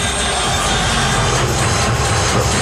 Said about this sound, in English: The crowd erupts, including the Clipper bench.